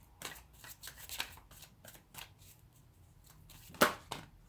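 Tarot cards being shuffled and drawn, a close, quiet series of quick riffling flutters and light slaps, ending in one sharper snap as a card is pulled, with no talking.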